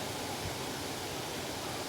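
Jet Sao Noi waterfall in Saraburi rushes as a steady, even wash of broadband water noise, faint and continuous, with no voices.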